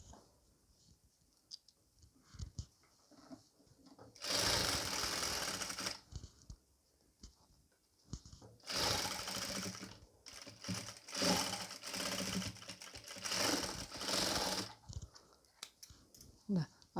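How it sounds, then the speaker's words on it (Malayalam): A sewing machine stitches a half-inch seam on a nightie around the neck, shoulder and sleeve, running in loud, close bursts of rapid whirring, one short and a longer one broken by brief pauses. "നമുക്ക് 1/2 ഇഞ്ച് അകലത്തിൽ തയ്യൽ തുമ്പ് ഇട്ട് അടിക്കുക"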